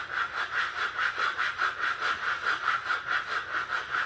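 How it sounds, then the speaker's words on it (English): Hard back-and-forth scraping at a label on a kids' juice pouch, a steady rhythmic rasp repeating about three times a second, close and fairly quiet with no talking. "Make sure when you're scraping it, you scrape it super hard."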